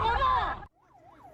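A Korean coast guard vessel's siren wails as it closes in on a fleeing Chinese fishing boat at sea, a rising and falling tone that sounds distant and fairly faint after a loud burst of other noise cuts off.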